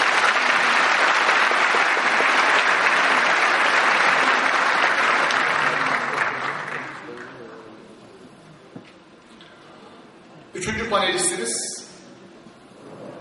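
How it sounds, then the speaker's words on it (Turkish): Audience applauds a panelist being introduced at a democracy panel discussion, a loud steady burst of clapping that fades after about six seconds, leaving quiet room noise before a brief rustle and murmur near the end. "Alkışlarımız Doktor Sayın Cengiz Aktar"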